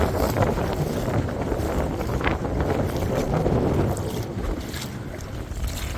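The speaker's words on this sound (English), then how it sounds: "there's definitely a bit more wind out here today." Wind buffeting the microphone aboard a boat sailing off Antigua near English Harbour, a steady broadband rush with water wash beneath, continuous and close for the whole stretch.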